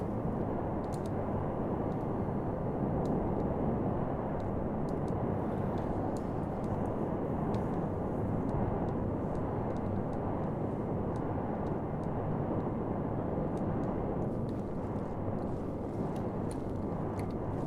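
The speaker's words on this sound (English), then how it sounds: "Let's just turn the thrust right the way up." Spacecraft thrusters in the Stationeers video game run at full thrust on Mars as a steady, loud, broadband roar. The sound holds unchanged throughout, with faint ticking above it.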